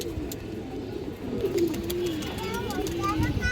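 Female running and flying pigeons coo nearby in soft, wavering low calls, heard under someone talking over steady background noise.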